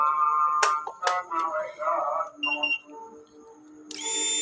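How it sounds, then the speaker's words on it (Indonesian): A Honda Beat eco scooter's fuel pump switching on with the ignition, a brief steady electric whine that starts abruptly at the end, after someone talks over a few clicks. "Kita kunci kontak on, apakah pulpamnya bunyi."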